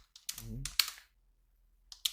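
A few quick clicks of typing on a computer keyboard during a Java coding session, with a short spoken murmur in between and quiet gaps.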